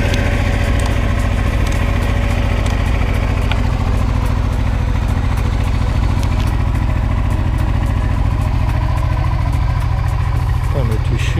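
Honda Africa Twin RD03 motorcycle engine running close by, a steady idle with rising revs and some mechanical clatter, heard continuously throughout with someone talking over it.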